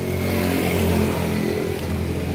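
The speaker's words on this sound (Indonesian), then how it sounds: "Honda Beat suaranya kasar waktu di starter" A Honda Beat scooter engine runs rough right after starting, a steady close mechanical drone with dense low knocking throughout and no voices.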